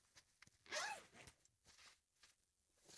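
A zipper on a garment, apparently a pair of jeans, is pulled in one quick, close rasping stroke, followed by soft rustles of the fabric being handled.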